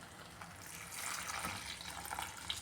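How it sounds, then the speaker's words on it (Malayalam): Hot water is poured into a pan of drumstick leaf and coconut curry, making a soft, steady gushing pour that swells midway and stays faint throughout, with no talking. "ഇനി ഇതിലേക്ക് വെള്ളം ചേർത്ത് കൊടുക്കാമേ."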